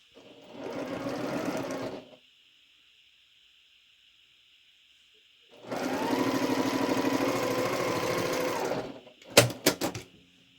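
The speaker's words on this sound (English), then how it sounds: "then we will sew those together and make that center square" A sewing machine stitches quilt block pieces together for a star quilt, running in two close, steady bursts of about two and three seconds with a quiet pause between, then a few sharp clicks at the end. No one speaks.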